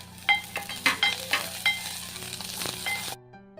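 Onion, green chilli and half a tomato sautéing in a pan give off a steady close sizzle, broken by several sharp stirring scrapes, before cutting off abruptly near the end.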